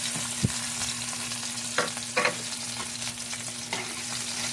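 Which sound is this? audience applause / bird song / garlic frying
garlic frying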